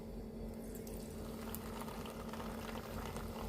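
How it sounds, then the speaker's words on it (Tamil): Egg puffs deep frying one by one in hot oil over a slow flame, a soft, continuous bubbling hiss at low level, with no talking. "இப்போ ஒன்று ஒன்றா இதை போட்டு பொரிச்சு எடுத்துக்க போகிறோம்"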